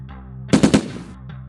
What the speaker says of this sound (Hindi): उसके बाद सुबह वहाँ पे फायरिंग स्टार्ट कर देता है।